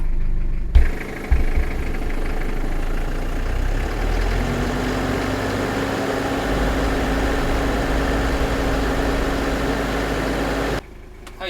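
A camper van engine idles steadily at close range, charging its batteries, a low continuous rumble with a few knocks at the start, running on until it cuts off near the end.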